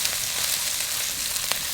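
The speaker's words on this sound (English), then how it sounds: "Just give it a stir." Thai green curry with chopped small green chilli sizzles and fries in a hot pan while being stirred, a steady loud hiss with a few faint scraping clicks.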